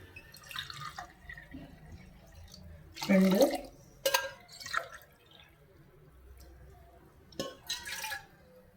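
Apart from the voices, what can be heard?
pouring water into a pot with jaggery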